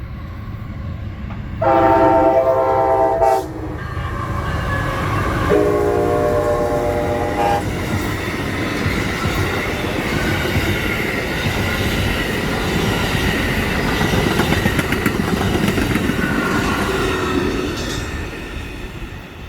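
A fast Amtrak passenger train roars past steadily at about 60 mph in northern Florida, with two loud horn blasts near the start and continuous rumbling wheel noise throughout.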